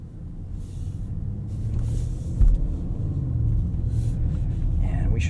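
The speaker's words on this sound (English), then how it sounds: "let's take this SQ8 for a drive and see how it does on the road" A 2024 Audi SQ8 drives on the road, heard from inside the cabin as a steady low engine and road rumble that builds gently, with one brief louder bump partway through.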